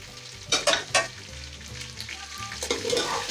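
Whole spices, including black pepper and star anise, sizzle and crackle steadily in oil in a pan, with a few sharp pops and scraping stirs, close and fairly quiet.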